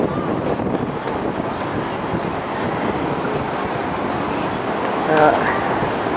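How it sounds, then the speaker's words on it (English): Steady, rushing wind noise in Sydney buffets the microphone throughout, a dense broadband roar with a brief louder gust near the end. "It's very windy at the moment."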